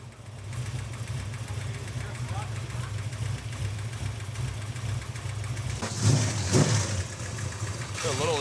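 A restored 1970 Chevy El Camino engine runs at a steady idle with a low rumble, rising briefly in a couple of revs near the end while people talk over it.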